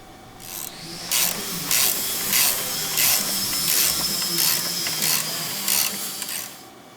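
A hand ratchet clicks in quick bursts while loosening the track locator arm from the spindle hub on a Mercedes S550 rear suspension, about nine short close ratcheting runs with brief pauses.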